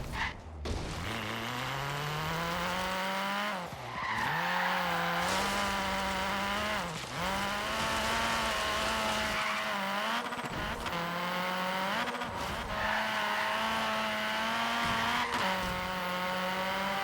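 Rally-cross-inspired Mini build in a racing video game, its engine holding a steady, close, loud buzzing drone through a corner, dipping briefly with gear changes and braking while a faint tire squeal runs beneath; nobody speaks.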